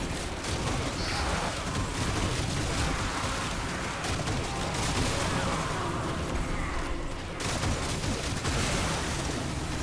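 An arc gun fires continuously in the Warframe video game, producing a dense, loud, unbroken crackle and rumble of gunfire and explosions throughout, without speech.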